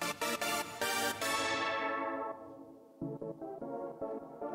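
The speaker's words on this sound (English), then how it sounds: "But if we move this note up one semitone," Piano or synth keys playing a harmonic minor scale with one note raised a semitone, a rapid run of bright notes ringing into a long fade, then a new pulsing, stepped pattern entering.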